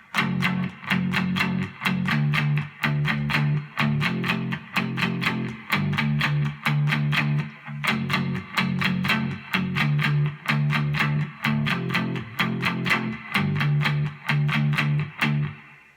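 Distorted electric guitar chugging palm-muted power chords in a steady driving rhythm, with short choppy bursts and brief pauses between phrases.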